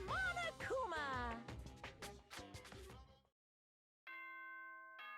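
Announcement chime from the video game Danganronpa: Trigger Happy Havoc, a steady multi-tone bell chord that rings out clearly and alone after a short silence, following a stretch of music with a voice over it.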